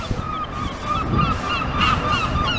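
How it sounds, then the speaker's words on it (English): Gulls call and squawk nearby in a busy, overlapping chorus of honking cries against steady outdoor background noise. "You can hear the seagulls."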